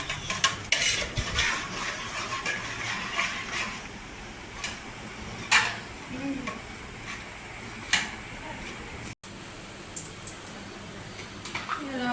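Pav bhaji vegetables are stirred in hot oil in a village kitchen: continuous scraping and clinking of a ladle against the pot with soft frying sizzle, sharp knocks scattered throughout, voices faintly in the background.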